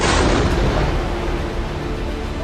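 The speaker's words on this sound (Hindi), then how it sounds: "देखिए, जोरदार धमाका होता है," A loud, sustained roar of blast noise from an explosion at a Gaza hospital fills the whole stretch, dense and broadband, strongest at the start and slowly easing, with no voices heard.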